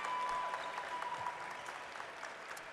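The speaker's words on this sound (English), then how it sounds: "Round of applause from everyone" Applause at a national dodgeball championship, a steady wash of crowd clapping from the gym audience sustained throughout at moderate distance.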